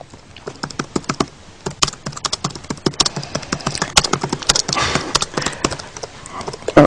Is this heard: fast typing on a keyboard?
yes